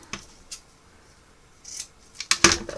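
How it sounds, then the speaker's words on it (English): A few sharp scissor snips cutting ribbon, spaced irregularly, the last two close together and louder, with quiet rustling between. "Snip it off."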